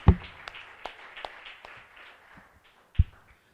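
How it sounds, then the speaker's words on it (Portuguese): Thin, scattered applause from a church congregation, a few distinct claps over a light patter that tapers off, with one last clap near the end. "Bora aplaudir."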